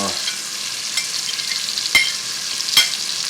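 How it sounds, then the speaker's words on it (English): Vegetables and onions for a potato and bacon soup sauté in a pan with a steady, close sizzle, broken by a couple of sharp clicks from stirring. "just gonna cook this, saute these vegetables"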